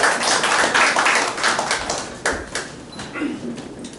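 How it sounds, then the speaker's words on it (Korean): An audience at a dental talk concert claps to welcome a speaker, brisk applause at first that thins into scattered individual claps as it fades. "박수로 맞아주시기 바랍니다."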